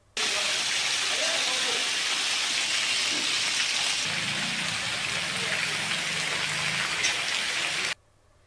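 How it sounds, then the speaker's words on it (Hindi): Heavy rain pours steadily under dark clouds, a dense, loud, even hiss that holds throughout and stops abruptly at the end, with no distinct thunder cracks standing out. "आसमान में घिरे हुए काले बादलों से लगातार बिजली के कड़ाकों के साथ बरस रही बारिश"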